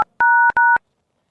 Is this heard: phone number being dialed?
yes